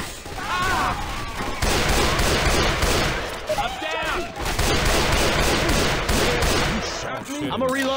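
Gunfire in Left 4 Dead 2: sustained, dense bursts of shots with crashes and zombie growls running continuously, with excited voices shouting over the chaos.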